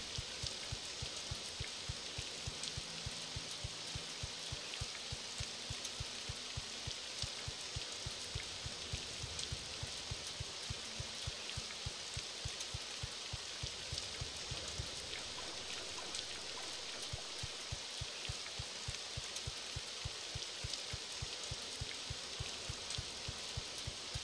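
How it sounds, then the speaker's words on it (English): Steady rain falls in the Morrowind Rebirth game world, a continuous dense hiss of drops with a faint pattering texture, even and unbroken throughout with no voices. "And it is raining."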